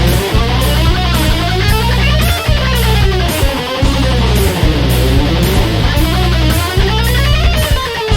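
An electric guitar plays a long, fast chromatic line, winding steadily up and down in close-knit notes, loud and alone with no talking.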